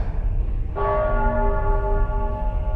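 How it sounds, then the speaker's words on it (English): Church bells in the video game Nostradamus: The Last Prophecy ring out, sustained tones swelling in and holding steady over a low background rumble, loud and resonant. "The bells."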